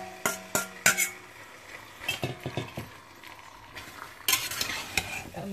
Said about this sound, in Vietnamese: Mình trộn lên rồi mình xào cho nó, cho nó săn thịt nha các bạn.